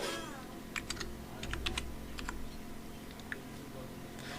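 Typing an email address on a computer keyboard: irregular, crisp key clicks come in small clusters over a steady low room hum, close and moderately quiet, with no talking.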